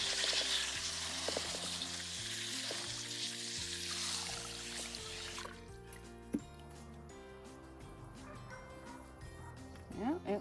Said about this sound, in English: Let's see if it'll rinse out with the hose.